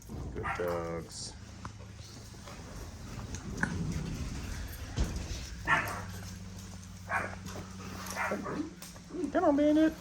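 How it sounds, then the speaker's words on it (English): A dog makes a few short barks and yips amid whimpers, close by, mixed with a person talking over the background. "And do your characteristic single bark, are we?"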